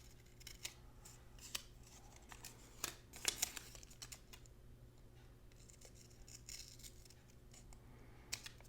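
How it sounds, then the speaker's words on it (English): Non-stick scissors snip through planner stickers in quiet, close, irregular cuts, a scattering of small crisp clicks and slices with a louder cluster in the middle and near-silence between. "These are non-stick scissors."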